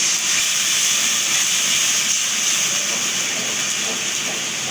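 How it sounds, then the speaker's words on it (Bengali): Water poured into a pan of frying onion, ginger and garlic sets off a loud, continuous steamy hiss that stays strong and even throughout, with no talking. "আমার আদা রসুনটা কিন্তু সুন্দর করে পেঁয়াজের সাথে ভাজা ভাজা হয়ে গেছে এখন আমি সামান্য একটু পানি দিয়ে দেবো"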